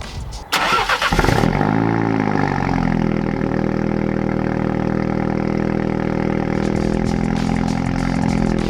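A Mini Cooper fitted with a valved JCW exhaust, tested on a dyno, fires up with a sharp burst, then settles into a loud, steady idle, with a few crackles from the exhaust near the end.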